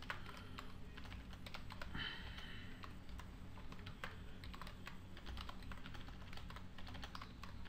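Rapid typing on a computer keyboard during OpenGL C++ programming, a dense, irregular run of soft clicky keystrokes close to the microphone with brief pauses and no talking.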